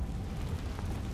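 A Confringo spell explosion in the video game Hogwarts Legacy, a brief, deep, rumbling boom that fills the short moment and stays heavy in the low end.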